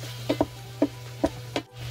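A utensil scraping and tapping the bottom of a pot of sausage potato soup, five or six short distinct scrapes spaced under half a second apart, close and fairly quiet over a low steady hum.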